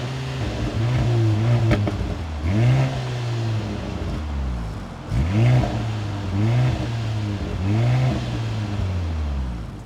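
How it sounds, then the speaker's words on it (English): A 2023 Mercedes-AMG C43 sedan with a 402 hp four-cylinder, exhaust in its aggressive mode, revs loudly and close in a series of sharp blips, each climbing and dropping back to idle, with no talking. "let's check out how this exhaust sound."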